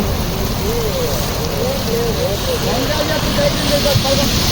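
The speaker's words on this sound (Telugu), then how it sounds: "బయట భారీ వర్షం పడుతుంది" Heavy rain pours down outdoors on someone caught out while riding a motorbike, a steady, dense roar of downpour filling the whole clip, with a voice faintly present underneath.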